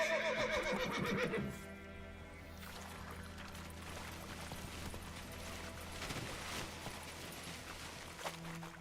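Roach the horse gives a short neigh at the start in The Witcher 3, followed by a low steady rumble and soft movement sounds, with no one talking.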